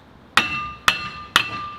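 A sledgehammer strikes an old rusty brake rotor three times at an even pace, each blow a sharp, loud metallic clang that rings briefly before fading.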